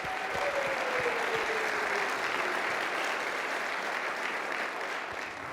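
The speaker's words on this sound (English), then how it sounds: "and that deserves a round of applause." A civic audience gives a round of applause at a city address, steady dense clapping heard from a distance that holds evenly for several seconds and then begins to fade.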